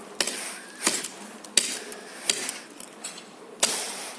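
Suduk knife chopping, about half a dozen sharp irregular strikes with short decays between them, fairly close, and no talking.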